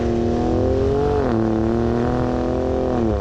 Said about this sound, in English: So we're running the Raptor out here on the road to Holy Jim.